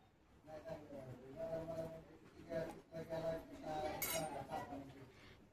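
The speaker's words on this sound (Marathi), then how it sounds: "तर बटाटे मी मॅश करून घेते." Peeled boiled potatoes mashed for aloo paratha, giving soft repeated squishes and light clinks of a masher against the vessel under a continuous tonal background.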